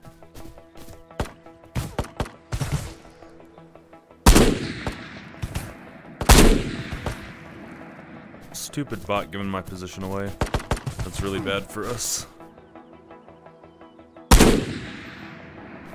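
Gunfire in the shooter game Ghosts of Tabor, with sharp single shots and a rapid automatic burst ringing out at close range, separated by loud, heavy booms, while someone talks over the action.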